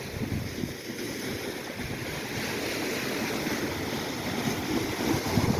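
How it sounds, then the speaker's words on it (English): Lake waves crash against shoreline rocks under a gale warning, a continuous roaring wash of surf mixed with heavy wind buffeting the microphone, loud and sustained without talk. "They are crashing pretty hard up against these rocks though."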